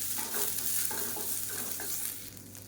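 Chopped onions sautéing in a pan for chutney: a dense, close sizzle with rhythmic scraping stirs, heard alone.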